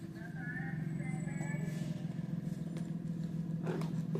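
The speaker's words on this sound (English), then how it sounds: "As the school bus comes." A school bus gives off a steady, fairly loud low engine drone that holds through the whole moment, with a voice talking over it.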